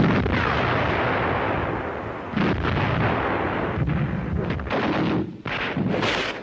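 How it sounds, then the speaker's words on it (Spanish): Soviet artillery barrages on the World War II front, a dense rumbling roar of overlapping blasts and booms that swells in several surges, loud and continuous with no voices. "Los tanques de asalto soviéticos y las numerosas descargas de artillería estaban destruyendo las líneas"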